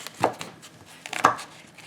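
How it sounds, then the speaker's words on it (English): A kitchen knife cuts the cores out of apples for cinnamon apple butter, giving two crisp, close cutting knocks about a second apart. "I'm simply just going to cut the core out of"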